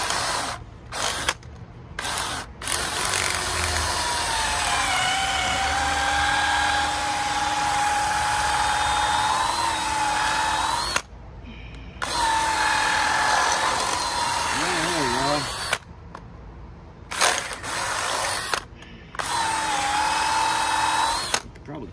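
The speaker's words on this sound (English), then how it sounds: "Well, I just used a smaller drill that time." A power drill bores into a 1989 Mustang GT rear end during bushing replacement, with long whining runs broken by short pauses and a rising spin-up, loud and close, with someone talking at times.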